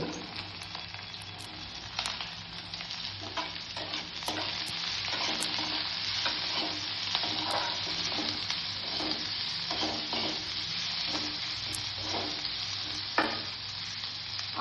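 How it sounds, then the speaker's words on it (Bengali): Garlic frying in a pan before onions go in, a steady close sizzle throughout with repeated scrapes and clicks of stirring, no voices. "রসুনটা একটু ভাজা ভাজা হবে, তারপর এর মধ্যে আমি পেঁয়াজটা দেবো।"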